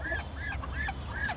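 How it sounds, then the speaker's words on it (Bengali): Ducks and chickens fighting, with repeated loud honking quacks in short bursts close by over a low background rumble. "তো এখানে হচ্ছে আমাদের হাঁস আর মুরগি মারামারি করতেছে"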